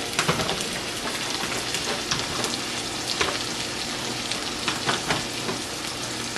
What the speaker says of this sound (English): Get a spoon right here and stir this up.